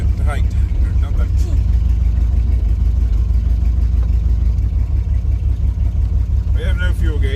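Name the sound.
1985 Chevrolet Camaro IROC-Z engine running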